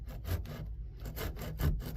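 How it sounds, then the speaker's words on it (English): Hand saw cutting a wooden workpiece for a double barley twist candlestick holder, quiet rhythmic rasping strokes repeating about every half second, close by. "And I'm going to keep sawing away"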